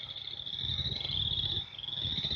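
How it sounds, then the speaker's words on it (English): A chorus frog call rings out as a steady high trill throughout, continuous and fairly faint, with a low background rumble and no voices. "So this is the chorus frog."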